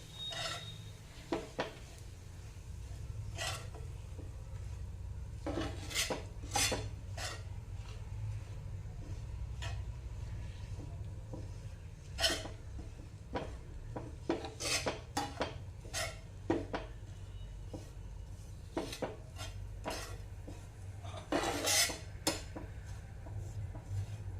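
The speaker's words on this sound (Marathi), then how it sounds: "आता आपण बेसन घालूया बेसन छान असं परतून घ्यायचं आहे" Gram flour being stir-roasted in a pan: quiet, steady scraping and rubbing of a spatula against metal, with scattered light clinks of utensil on pan over a low background hum.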